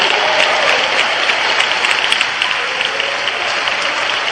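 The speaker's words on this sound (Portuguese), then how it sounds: "batam palmas e glorifiquem ao Senhor." A church congregation claps hands together in a steady, dense wash of applause that fills the space evenly, loud and sustained with no talking over it.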